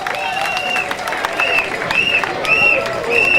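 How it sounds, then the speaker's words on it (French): A crowd applauds a speaker's entrance at an event with continuous dense clapping, while repeated whistle or horn-like tones ring out over the noise. "Saluons l'entrée, applaudissons l'entrée du secrétaire général Augustin Kouya."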